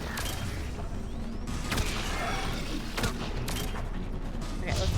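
Bursts of gunfire in the video game Mass Effect 3, several sharp cracks and rapid volleys over a rumbling battle din, with a player's voice talking at times underneath.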